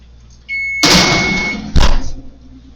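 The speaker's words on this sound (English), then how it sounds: "There's my timer." A kitchen oven timer beeps while banana bread bakes, sounding as a sustained electronic tone with clattering and a sharp burst of handling noise as the oven is opened, no talk.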